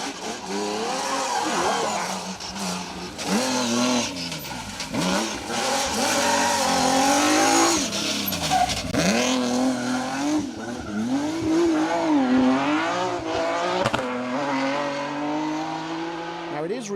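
A rally car entered as a Darien comes downhill on an asphalt stage of Rally Ceredigion 2023, its loud engine revving and sweeping through gear changes with some tire squeal, while a commentator talks over it.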